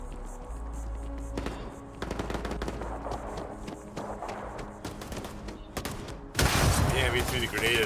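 Rapid automatic gunfire and scattered shots ring out in the video game Starfield, with dense bursts building to a louder, heavier volley near the end.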